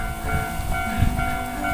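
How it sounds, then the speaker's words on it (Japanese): A train passes near Suzakumon gate in Nara, a close, steady rumble with hissing and a low thump midway, no talk. "電車来ますね。"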